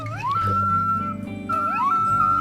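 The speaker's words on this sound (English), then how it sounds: "The cute little puppy howls." A wolf puppy in the video game WolfQuest howls twice, each a short rising yelp sliding into a thin held note, close and clear over low game background sound.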